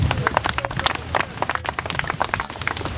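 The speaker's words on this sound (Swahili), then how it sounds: "Naomba tuwapongeze kwa makofi mengi." A crowd at a school sports event applauds students with special needs, a dense, steady patter of many hands clapping together for a few seconds.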